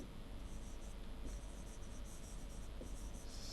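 Writing on a board during a lecture on single-phase reluctance motors, a steady dry scratching of the writing tool that runs continuously and close by, with no voice heard.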